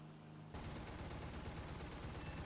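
A Bf 110 C-4 in War Thunder fires its cannons at a bomber, a loud rapid burst of gunfire that starts abruptly after a half-second lull and keeps hammering steadily to the end.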